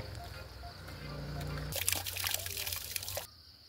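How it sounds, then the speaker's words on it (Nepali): Water runs from an outdoor tap, a close hissing rush that swells loudly partway through, then cuts off abruptly near the end. "यता चाहिँ धारा हो, शुभमको धारा हो।"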